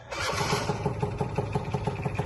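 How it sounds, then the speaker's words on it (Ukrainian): A Yamaha Jog SA16 scooter from Japan starts and settles into a smooth running idle, its small engine putting out a close, steady, rapid putter with no talking. "Скутер заводиться ідеально, працює також."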